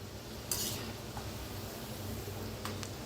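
Shankarpali dough pieces fry in hot oil, a soft continuous sizzle and bubbling close by, with a few light clinks of a utensil against the pan.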